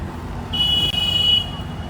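A car horn sounds in Dubai street traffic: one steady honk of about a second, standing out clearly above the low rumble of passing vehicles.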